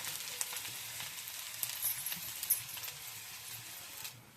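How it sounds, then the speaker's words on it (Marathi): Garlic and coconut roasting in oil in a pan, a faint, quiet sizzle with light crackles and small stirring ticks, alone without speech. "आता ह्याच्यामध्ये लसूण खोबरं भाजून घेऊ. चांगलं तेल टाकले."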